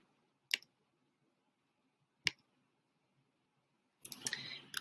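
Computer mouse clicking, two sharp isolated clicks a couple of seconds apart in a quiet room, followed by a longer burst of rustling and clicking.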